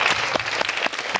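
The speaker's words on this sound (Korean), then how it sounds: "큰 박수 한번 부탁드리도록 하겠습니다" A brief burst of steady applause from a congregation clapping together during a Catholic Mass.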